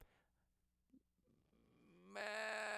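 Goats on an Ecuadorian dairy farm, heard as a single loud, drawn-out bleat that swells up near the end after a quiet stretch with faint low background noise.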